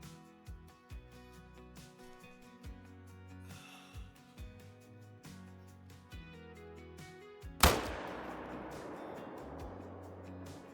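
A single sharp rifle shot aimed at a moose in the hunting game Call of the Wild, Alberta reserve, cracks out over quiet background music and leaves a long, fading rumbling tail.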